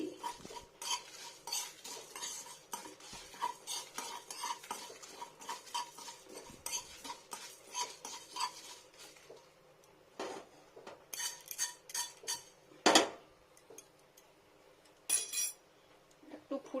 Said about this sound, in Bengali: এটা হচ্ছে জিরে এগুলো ডাই রোস্ট হবে